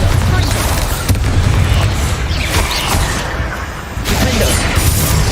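Bombarda spell explosion in the video game Hogwarts Legacy, a loud booming blast buried in dense, continuous battle noise with rumbling low end for several seconds.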